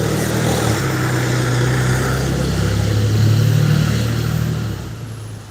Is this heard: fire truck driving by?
yes